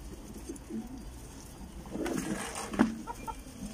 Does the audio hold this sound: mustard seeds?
no